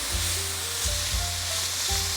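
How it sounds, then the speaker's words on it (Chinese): Diced water chestnuts being stir-fried in a pan for a vegan dish with napa cabbage and potatoes, a steady close sizzle broken by a few soft low thumps of the spatula turning the pieces. "继续翻炒"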